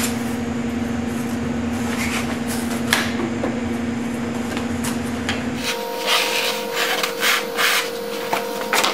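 A router cuts out a wooden kiteboard indoors with air conditioning running: a sustained motor whine over continuous rasping and rubbing that shifts pitch partway through as the cut changes.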